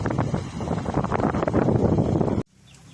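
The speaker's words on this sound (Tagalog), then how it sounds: "Napakalakas na hangin dito mga master. Hangin." Strong wind on a beach buffets the microphone with a loud, rough roar that cuts off abruptly near the end, leaving a faint hush.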